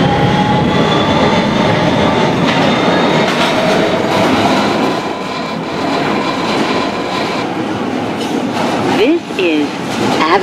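An R160B Siemens subway train on the BMT Broadway Line in a Roblox game runs on rails with a continuous loud rumble and rolling clatter, with squealing tones near the end and a voice announcing over it.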